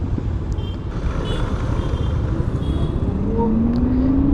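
A Simple One electric scooter accelerates in Sonic mode at night on a roadway, giving off a rising whine that climbs steadily in pitch over a constant loud bed of wind and traffic rumble.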